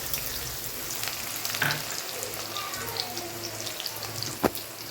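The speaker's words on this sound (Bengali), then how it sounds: "পেঁয়াজটাকে আমি সুন্দর করে ভেজে নেব।" Onion frying in oil in a kadai with whole garam masala, a continuous close crackling sizzle with occasional stirring scrapes and a sharp clatter near the end, no voices.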